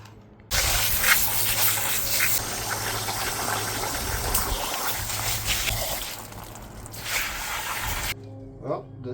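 Steady spray of water rinsing a deer skull euro mount, a continuous loud hiss running about eight seconds before cutting off abruptly, followed by quiet dripping.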